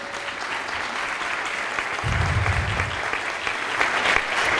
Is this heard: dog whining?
no